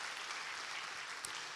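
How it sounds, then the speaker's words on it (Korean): A church congregation applauds during a Thanksgiving Sunday intergenerational worship service, a dense, steady wash of many hands clapping throughout the short stretch, fairly distant and even. "7080 우리 부모님들 우리 뜨겁게 감사합니다라고 박수 해주시겠습니다."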